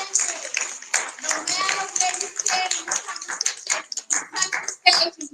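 A poetry slam audience claps in scattered, uneven bursts, with cheers and voices mixed through the applause.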